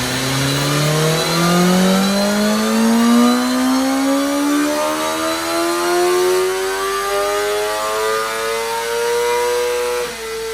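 A 2023 BMW M1000R street fighter motorcycle on its stock exhaust revs up close by, its engine note climbing smoothly in pitch for about ten seconds before dipping briefly at the end.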